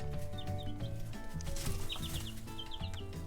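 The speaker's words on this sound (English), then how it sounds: "Chickens have more than 30 types of vocalizations. And they are vocal little things." Young backyard chicks cheeping in short, high, repeated peeps, clustered in little bursts over a steady low hum and background noise, fairly faint.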